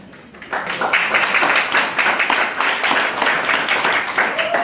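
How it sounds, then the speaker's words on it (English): A kidney walk kickoff crowd breaks into applause for a walk team after a quiet start, and the clapping swells to a full, steady round that carries on to the end with sharp nearby hand claps. "Come on and stand up so we can all give you a big round of applause."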